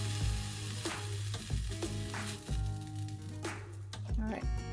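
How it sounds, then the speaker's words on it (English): A beef patty frying in a pan for a patty melt gives off a steady sizzle, with soft scraping and pressing noises as it cooks under a person talking. "just fry it up, a minute or 2 on each side"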